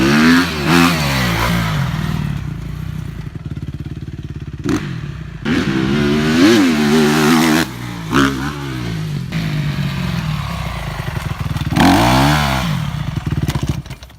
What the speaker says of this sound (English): You want to know how to do a stoppie into a burnout.